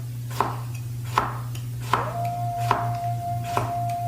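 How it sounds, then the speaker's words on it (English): A knife slices a cucumber thin on a cutting board, giving about six sharp, evenly spaced chops over a steady low hum, close and clear, with nobody talking. "then you're just going to slice it thin"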